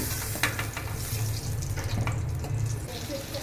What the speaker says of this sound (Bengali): এই তেলেই আমি আবার বাদবাকি পটলগুলো ভেজে নিচ্ছি